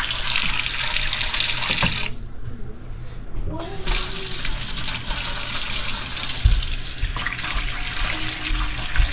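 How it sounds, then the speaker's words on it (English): A faucet runs loudly into a bowl to cool a batch of bear fat soap, a steady close gush of water that briefly stops and then starts again, with a few small knocks. "So I'm gonna put this in a little bowl of water."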